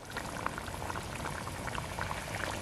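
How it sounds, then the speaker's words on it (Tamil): Pot of Tamil fish curry, meen kulambu, bubbling at a steady boil, a close, continuous burbling with small pops and no voices. "குழம்பு நல்லா கொதிச்சிட்ருக்குங்க."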